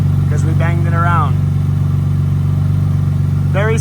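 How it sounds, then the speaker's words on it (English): The radiator cooling fan of an Infiniti G35 runs with the AC on, giving off a steady, loud, close whirring hum with a low drone, while someone talks over it. "Now we're left with one fan working with AC on because we banged it around."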